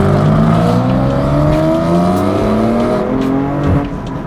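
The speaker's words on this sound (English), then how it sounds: "I think her car sound puts my cars to shame" A car engine revs hard as it pulls away down a road, a loud, steady rising roar with climbing harmonic tones for several seconds before the pitch drops slightly near the end.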